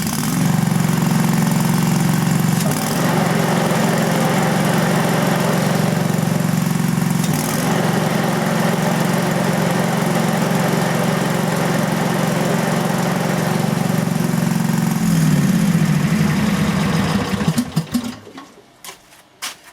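A Countax ride-on mower's engine runs steadily with a low, throbbing hum while the cutter deck pulley turns, loud and close for most of the time, then the engine note shifts and dies away at the end.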